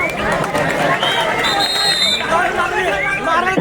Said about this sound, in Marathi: आजचे हे कबड्डीचे सामने पाहण्यासाठी तुफान अशी गर्दी लोटलेली आहे